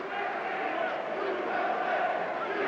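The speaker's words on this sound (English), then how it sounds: "the chant USA goes up from the crowd here at the Chomshil Gymnasium" A crowd chants USA at the Chamsil Gymnasium in Seoul during the 1988 Olympic basketball game between Brazil and the USA, a steady, dense roar of many voices with cheering throughout.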